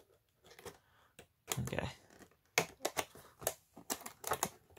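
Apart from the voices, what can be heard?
cutting open a game's packaging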